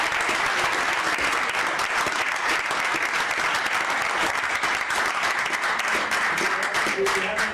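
Sustained, dense clapping from a crowd, loud and steady throughout with no pauses, applause ringing out at the end of a finance livestream segment.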